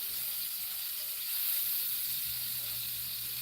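Butter sizzles in a pan for a grilled cheese, a soft, even hiss that swells slightly midway and carries on without speech.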